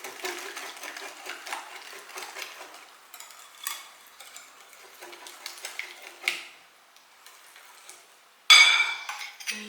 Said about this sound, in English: at this stage I like to whisk before I add the chia seeds to dissolve a bit the sugar